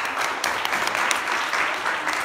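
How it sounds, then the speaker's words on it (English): A church congregation breaks into applause, a dense, steady wash of many hands clapping close by for the whole stretch. "So a round of applause,"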